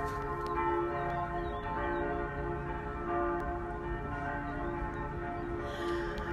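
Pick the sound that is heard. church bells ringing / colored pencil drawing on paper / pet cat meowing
church bells ringing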